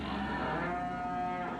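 Cattle lowing in Farming Simulator 2015 at a cow fattening pen, one long sustained moo with a steady tone, close and clear against a constant background.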